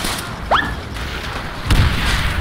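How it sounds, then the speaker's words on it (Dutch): In a Call of Duty match, the player's own grenade goes off with a single dull, low thump partway through, after a short electronic chirp over steady game noise. "Auw, ik ben gekillt door mijn eigen granaat."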